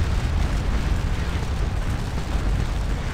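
Prussian artillery at the Battle of Waterloo in Scourge of War Waterloo keeps up a dense, steady low rumble of massed cannon fire. The constant roar runs through the whole stretch with no clear gaps between shots, and there is no talking.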